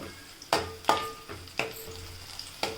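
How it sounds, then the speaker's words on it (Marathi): Onion and roughly crushed garlic sautéing in a pan, a soft close sizzle broken by several sharp scraping stirs of a spoon at uneven intervals. "इथे आपला आता कांदा आणि लसूण मस्तपैकी असा परतवून झालेला आहे"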